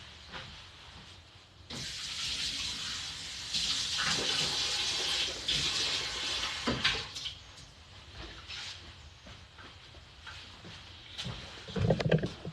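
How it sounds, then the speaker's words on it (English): Tap water runs and splashes while someone rinses their mouth at a sink, a close, fairly quiet rushing and sloshing that rises and falls, ending with a few spits and gurgles. "Let me rinse my mouth first."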